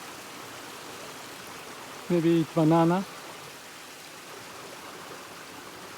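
A flowing mountain stream in a jungle rushes as a steady, even wash of water noise throughout, while someone speaks briefly near the middle.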